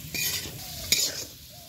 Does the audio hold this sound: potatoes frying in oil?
yes